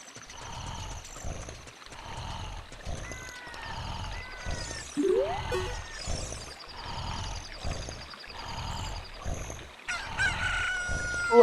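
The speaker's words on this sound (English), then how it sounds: "Look, a chicken hatched from the egg you were incubating." A rooster crows repeatedly in Ocarina of Time after a chicken hatches from an incubated egg, with a steady rhythmic pattern of crows and clucks against looping game music.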